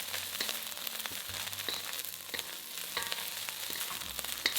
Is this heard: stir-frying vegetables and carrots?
yes